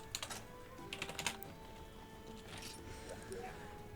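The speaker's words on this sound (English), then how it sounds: "I've got my keyboard here." Computer keyboard keys clatter in quick bursts, a cluster of sharp taps early on and a few more later, moderately close against a steady low room hum.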